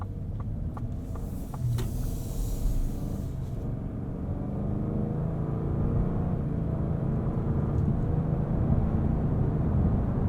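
A 2022 Lincoln Navigator Black Label with a 10-speed automatic transmission drives on a highway, its cabin filled with steady low engine and road rumble that rises slightly as the SUV accelerates, with no sharp shift breaks.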